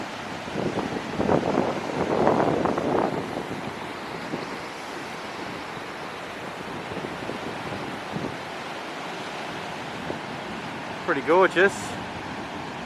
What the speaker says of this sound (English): Some surf.